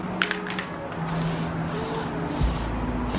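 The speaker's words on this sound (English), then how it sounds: "Shake this up. Pretty much this is a glossifier and also a metalizer, of course." An aerosol can of Plasti Dip metalizer sprays onto car wheels in hissing bursts, close and moderately loud, with short pauses between passes.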